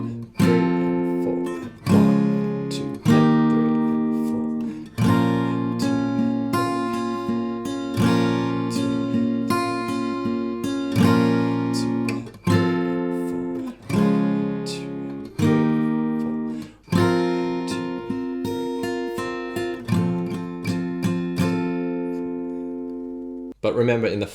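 An acoustic guitar plays the chorus of a song, with strummed and plucked chords ringing out in a steady rhythm over about twenty-four seconds, close and clear.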